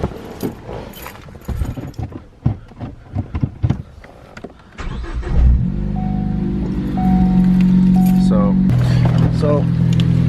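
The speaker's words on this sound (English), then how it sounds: "When you start it up, it does have a small difference that you can tell right away when starting it up. You can hear the injectors." A Ford Focus ST fitted with a four-port aux kit has its engine start and settle into a steady idle with a faint ticking of fuel injectors, preceded by handling noises and clinks.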